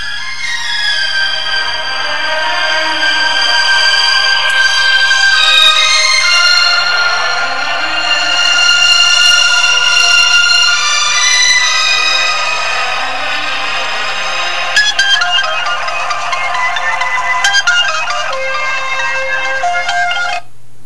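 A Sony Ericsson Live with Walkman (WT19i) Android handset blasts music loudly through its built-in speaker, a steady tonal melody with bright layered notes playing continuously without any talking.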